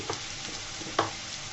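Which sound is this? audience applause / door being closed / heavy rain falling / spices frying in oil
spices frying in oil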